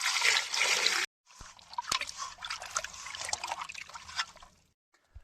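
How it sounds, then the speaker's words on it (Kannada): Water poured into a cooking pot for an outdoor village-style chicken chilli, a steady splashing pour that stops, pauses, then resumes as a lighter trickle before tapering off. "ನೀರು ಪಾಡ್ಗಾನೆ"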